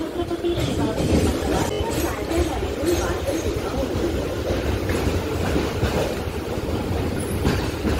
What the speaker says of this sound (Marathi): हे बघा CSMT स्लो लोकल जाते सेंट्रल रेल्वेची सायमिन रेक्स